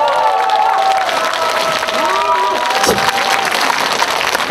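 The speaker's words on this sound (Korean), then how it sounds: "박수 한번 보내주시겠어요?" Crowd applause at a Korean regional singing contest, clapping mixed with cheering and voices, with tonal music or singing running beneath throughout.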